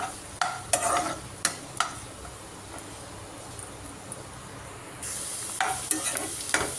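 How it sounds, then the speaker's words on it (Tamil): Onions sizzle and fry in hot oil with a steady crackle, broken by several sharp scrapes and clinks of a spoon stirring the pan. "நல்லா வதங்கணும் வெங்காயம்"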